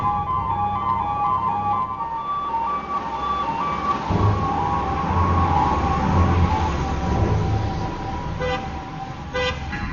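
A fire engine siren wails steadily and continuously over a busy city street with traffic, its tone holding nearly level throughout and fairly close.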